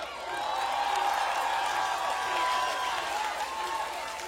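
A crowd claps for the jury members at a 2019 teen carnival-song contest. Steady, dense applause fills the hall at a moderate level for several seconds, with a tonal hum carrying underneath.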